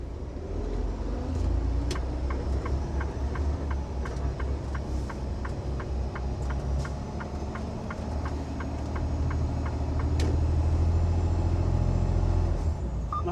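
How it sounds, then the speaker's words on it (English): A semi truck pulling a trailer on a road gives a steady low engine rumble, with a regular ticking pulse running through most of it, like a turn signal in the cab. "Now I got to drag the truck and trailer."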